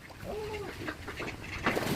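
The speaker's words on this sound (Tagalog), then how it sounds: "Ayun, pato oh! Pato!" A duck calls outdoors in a short series of nasal quacks and squawks at moderate distance, with background murmur and a brief voice near the end.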